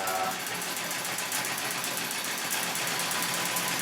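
A red eye Singer 66 treadle sewing machine quilting pebble stitching into batik fabric with variegated thread, running as a steady, fast, even mechanical whir and patter that is close and continuous throughout.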